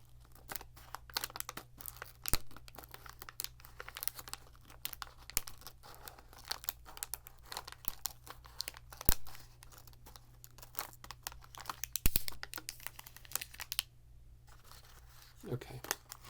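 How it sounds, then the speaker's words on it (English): A snack food bag is crinkled, torn and cut open close up, with dense rustling and crackling bursts throughout, including sharper louder tears near the middle. "This bag is making a lot of really loud noises, so I'm going to try to minimize that."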